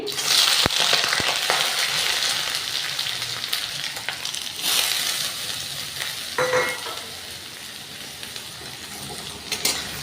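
Onions sizzle steadily in oil in a pan with occasional stirring scrapes and clinks; no voices are heard.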